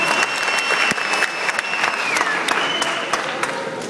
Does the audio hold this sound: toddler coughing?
no